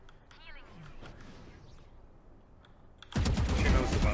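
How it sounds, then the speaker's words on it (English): Gunfire in Valorant on the Split map: a quick burst of loud rapid shots near the end, preceded by quieter game sounds with a voice talking over them. "I hear shots."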